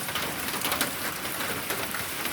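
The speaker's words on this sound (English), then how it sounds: "Y'all hear that? Finally raining." Steady rain falls in Missouri after a long dry spell, a dense even patter on surfaces that holds for the whole stretch, with a few faint bird coos far behind it and no talking.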